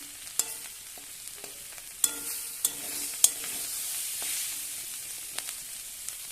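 Banana stem and shrimp curry being stirred in a pan, with scattered clinks of a spatula against the metal over a soft, steady sizzle; no talking.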